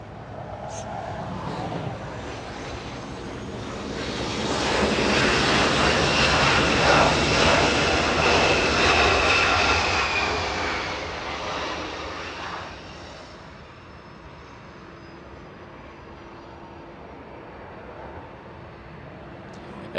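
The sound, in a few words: SkyWest CRJ-200 regional jet arriving at LAX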